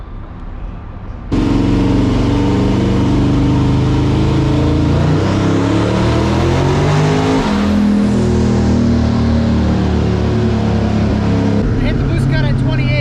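A 1000 hp Ford Ranger street truck roars on a dyno at full load, its loud sustained engine note climbing steadily before hitting the boost cut and stuttering, with voices talking over the noise near the end.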